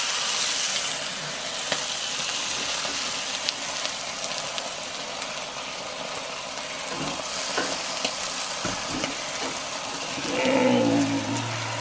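Eggs and sausages frying in a pan at breakfast, a steady close sizzle throughout with a brief scraping stir near the end, no talking.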